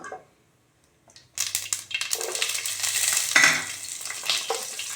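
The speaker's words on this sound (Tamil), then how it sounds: "உரித்து நறுக்கி வச்சுருக்கிற கார்லிக்கையும் போட்டு வதக்கிடலாம்" Silence, then a sudden loud sizzle of peeled, chopped garlic hitting hot oil, crackling and spitting steadily with faint stirring scrapes.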